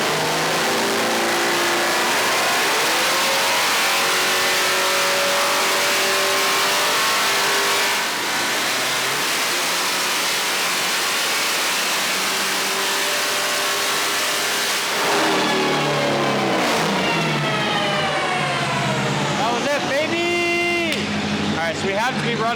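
A Hellcat-swapped Dodge Viper on a dyno with nitrous roars at full throttle, its engine pitch climbing through long sweeping pulls, then dropping and surging again in closing revs, loud and close throughout.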